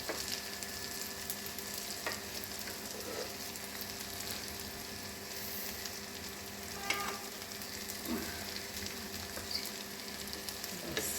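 Masoor dal kebabs crisping in a pan give off a steady, close sizzle and crackle. A few soft scrapes and clicks of turning break in, and no one talks.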